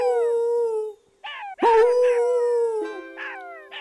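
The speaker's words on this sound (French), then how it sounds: "l'aboiement lointain de ses compagnons chacals" Canine howls and yelping barks in a steady series, with long rising-and-falling howls and short bark bursts, fitting jackals calling from afar; no speech.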